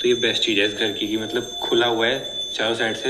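A ringing bell at a puja at home chimes steadily in the background under a man's continuous speech, its metallic tone sustained through the whole stretch.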